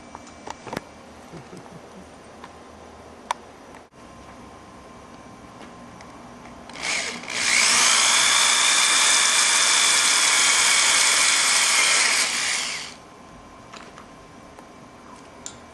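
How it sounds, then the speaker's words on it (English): A 1/8 inch drill bit bores a hole through the center of a small part for an airsoft charging handle, heard as a loud, steady high-pitched power-drill whine lasting about six seconds, with quiet handling ticks before it. "take your 1/8 of an inch drill bit and drill a hole through the center of your smaller piece"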